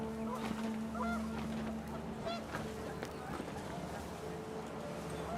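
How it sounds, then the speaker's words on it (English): Panicked geese honk in a gusting wind in the video game What Remains of Edith Finch, a brief burst of fowl calls over steady windy noise with a rushing whoosh, fading quickly. "The wind picked up, and panicked geese appeared and quickly went."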